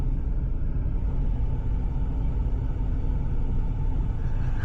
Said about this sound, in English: just allow the car to roll backwards, really nice and slow